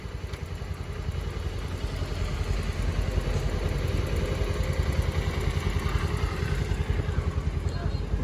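A motorcycle engine idles steadily and close by, a low continuous rumble with a rapid pulsing beat, with some voices faintly underneath.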